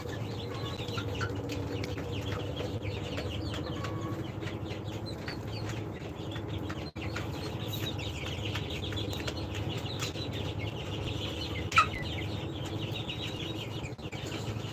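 A flock of 47-day-old laying hens clucks and murmurs softly throughout, a low, steady chorus of overlapping calls from many birds, with no one talking.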